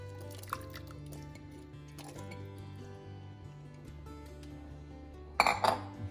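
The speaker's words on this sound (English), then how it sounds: "Give it another nice stir." A spoon stirs chocho into a pot of Jamaican red pea soup, quiet wet squelching under a low hum, ending in a brief burst of metal clinks against the pot, no talk.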